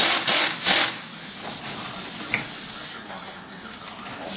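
A 3/8-inch impact driver runs a spring compressor on a Dodge Challenger SRT front spring, loud high-pitched whirring bursts at the start, then a quieter background hiss.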